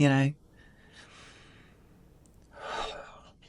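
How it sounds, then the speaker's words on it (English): Two full, deep breaths come close to the microphone, a long airy exhale and then a slower one, separated by a quiet pause after a brief burst of voice. "So take some full deep breaths"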